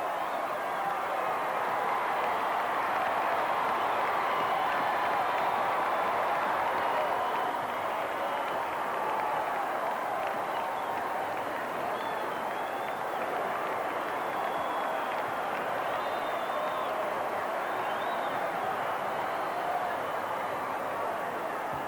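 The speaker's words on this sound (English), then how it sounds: "And listen to this roar of the crowd" A crowd roaring at a wrestling match as a team comes down the aisle, a dense continuous wall of cheering and noise held throughout, steady and loud with faint voices woven in.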